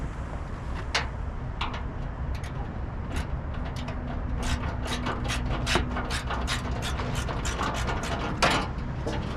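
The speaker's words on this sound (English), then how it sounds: "Get these last couple bolts off" A ratchet wrench loosens the last bolts holding the deer-damaged fender on a 2011 Scion xB, giving close, rapid metallic clicking in irregular bursts over a steady background rumble.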